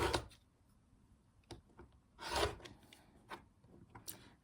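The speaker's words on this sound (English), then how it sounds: "And then we trim that excess." Excess quilt fabric being trimmed on a cutting mat, heard as quiet scraping and rasping strokes in a few separate passes, close and soft, with a longer stroke in the middle.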